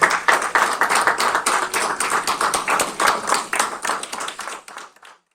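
A church congregation at a Sunday celebration in Tarragona claps for the Lord in a steady rhythmic beat, loud and close, with strong regular accents that thin out and stop abruptly at the end.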